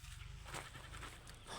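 Goats bleat at close range, with a steady low rumble of other farm sound underneath and no one talking.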